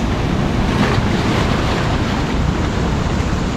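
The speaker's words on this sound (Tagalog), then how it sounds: "Malakas pa rin yung alon kahit maga." Strong ocean surf crashing continuously in La Union, a steady roar of breaking waves mixed with gusty wind noise, no voices.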